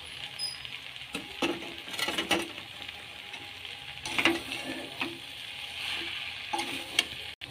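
Fried prawns go into a jackfruit curry in a pan, with gentle sizzling and scattered scraping and clinking of a spoon as the mix is stirred, close and without talk.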